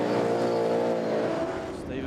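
Speedway race cars roaring around a dirt track, a loud, sustained engine drone with steady pitch, with a commentator talking over it.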